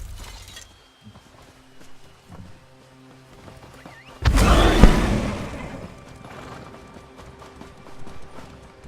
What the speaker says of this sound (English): I guess I can ride my horse now.